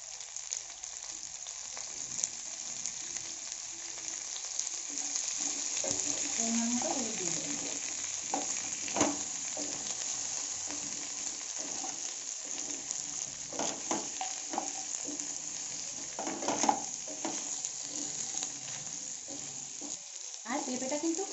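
Papaya pieces with turmeric fry quietly in a pan for a soybean, potato and papaya dish, giving a soft, steady sizzle broken by a few spoon-scraping stirs, with no talking.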